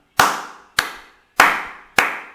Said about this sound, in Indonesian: Prok, prok, tangan ditepuk 2 kali.